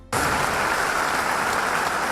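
Audience applause at a management conclave in January 2013, welcoming a speaker onto the stage: a dense, steady roar of clapping that starts abruptly and holds loud and even throughout.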